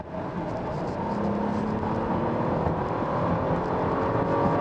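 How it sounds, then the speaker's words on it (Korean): Audi A8 55 TFSI under full-throttle acceleration heard from inside the well-insulated cabin, a steady, muffled engine drone with rising tonal whine and road roar, building slightly in loudness. "제가 지금 여기서 한번 스로틀 깊게 밟고 가속해 볼게요"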